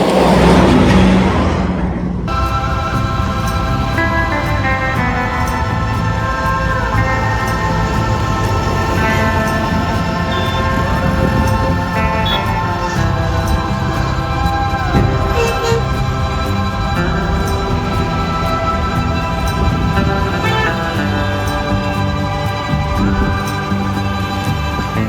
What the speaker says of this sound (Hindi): अभी देखो इधर पूरा का पूरा ट्रैफिक जाम है